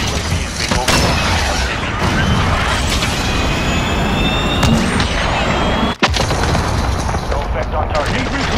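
A cruise missile strike in Call of Duty: Modern Warfare, heavy sustained rumbling and crackling blasts with distant gunfire for several seconds, a sharp cut near the end, with voices talking over the din.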